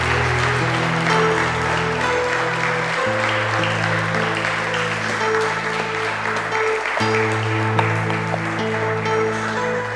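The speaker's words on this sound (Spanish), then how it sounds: "Dale un aplauso a Jesucristo." A church congregation applauds in steady, continuous clapping under sustained chords of music playing throughout the worship service.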